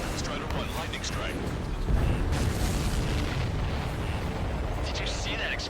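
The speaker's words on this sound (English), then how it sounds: "Did you see that explosion?" A deep rumbling explosion swells in the middle of a dense, noisy aerial battle soundscape in Ace Combat 7, with heavy low-end jet roar throughout and radio chatter over the top.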